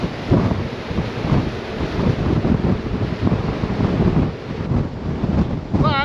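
Red Jet 7 fast ferry running at about 35 knots cruise speed on sea trial, heavy wind buffeting and rushing water with a low engine rumble, loud and continuous, with a brief chirp near the end.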